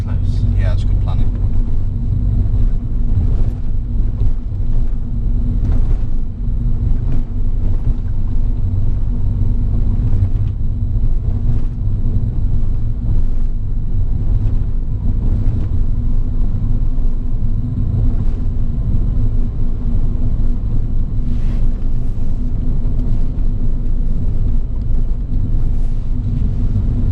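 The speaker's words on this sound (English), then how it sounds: "Roads are getting bumpier." A car driving on a bumpy road fills the cabin with a steady, loud low rumble and occasional knocks and jolts, under ongoing conversation.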